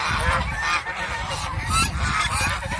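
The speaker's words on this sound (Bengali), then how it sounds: "এগুলি তো পুরাতন ছেলে হাঁস" Old male domestic geese honk loudly and continuously at a farm, several birds overlapping in a dense, harsh chorus close by.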